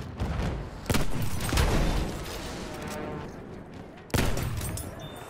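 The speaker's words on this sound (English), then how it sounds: "Enemy machine gun!" Machine gun fire in the shooter game Battlefield 1, dense continuous bursts of rapid shots with sharp louder cracks breaking in, loud and sustained through the whole stretch.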